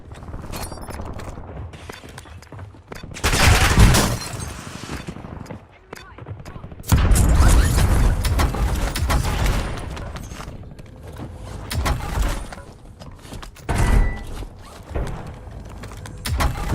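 Submachine gun fire in the Warzone video game: several loud bursts of rapid shots spaced through a steady background of game ambience, without talk.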